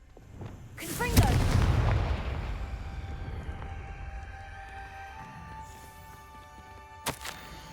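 A Confringo blasting spell explodes in the Hogwarts Legacy game, a loud booming blast with a long rumbling decay, then a quieter ringing tail and a sharp later impact.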